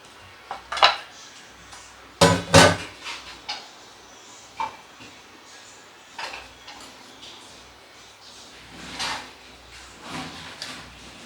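Fried hilsa pieces set onto a plate, giving a few sharp clinks and clatters of utensil against dish around one and two seconds in, then softer scattered taps and handling noises, close and without talk.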